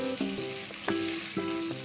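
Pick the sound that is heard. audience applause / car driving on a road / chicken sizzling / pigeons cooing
chicken sizzling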